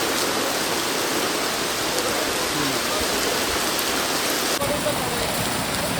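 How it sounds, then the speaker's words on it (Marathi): Heavy monsoon rain at Matheran hill station pours down in a steady, dense hiss that fills the whole clip without a pause. "पाऊस आहे ना भरपूर जोरात आली आहे"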